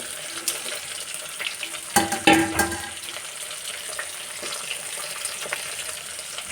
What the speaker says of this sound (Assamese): এইপিনে মাছ ভাজি আছোঁ, মাছৰ তেল একদম চিটিকি আছে গাত